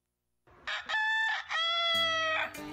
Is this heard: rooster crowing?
yes